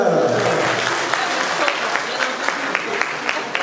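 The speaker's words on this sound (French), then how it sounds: "Applaudissez." Applause from an audience at a French anniversary ceremony honouring a mayor, a dense steady wash of many hands clapping throughout, fairly loud and close, with some voices mixed in.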